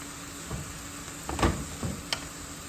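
Meat and pepper pieces being stirred while frying in a pan, a soft background sizzle broken by a few brief scraping stirs and a sharp clink, fairly quiet and without speech.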